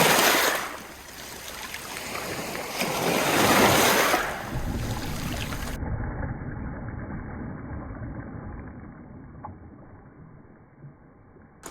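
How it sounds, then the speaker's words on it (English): Ocean waves break on a rock ledge at a surf spot, with a loud surge in the first seconds, then a steady softer wash of surf mixed with wind. "there's just a big rock ledge out here which causes the waves to break"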